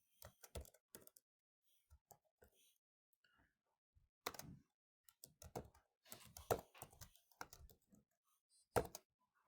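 Computer keyboard typing in irregular bursts of sharp clicks, with pauses between clusters of keystrokes and the densest run in the second half, fairly close and quiet with no voice over it.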